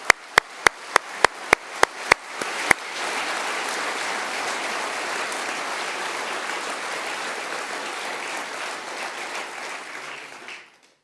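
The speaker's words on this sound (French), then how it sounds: "Vous pouvez les applaudir" An audience applauds firefighters at a French departmental ceremony. A few sharp, isolated claps build into sustained, even applause from a large crowd for about eight seconds, then it fades out quickly.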